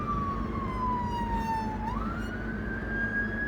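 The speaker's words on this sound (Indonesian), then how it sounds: "Jadi untuk sirine seperti ini adalah menandakan kita membawa jenazah" An ambulance siren wails close by, its tone sliding down then sweeping back up, over a steady low engine rumble.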